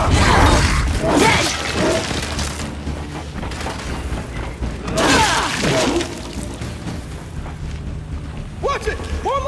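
Frag grenades burst in the shooter Gears of War 5, two loud shattering booms a few seconds apart amid gunfire and battle noise, with shouting voices in between.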